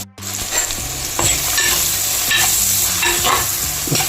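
Onions and green chillies sautéing in a pan for a Kerala-style tilapia fish curry: a loud, close sizzle with repeated rhythmic scrapes of a spoon stirring against the pan, no voices.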